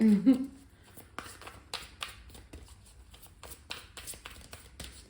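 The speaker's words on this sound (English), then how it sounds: "As you saw, I was already just shuffling" A deck of Moonology manifestation cards being shuffled by hand, giving a run of soft, close papery flicks and taps at an irregular rhythm, with quiet room noise and no talking.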